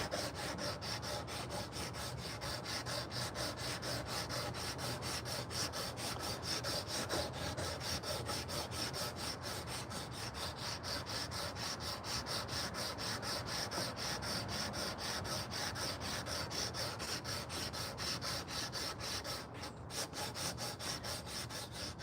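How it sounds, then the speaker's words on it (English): A carved wooden spoon is sanded by hand in quick, steady back-and-forth strokes, producing a continuous close, even rasping rub that lasts over twenty seconds with no talking. "Using the old high-powered sander here."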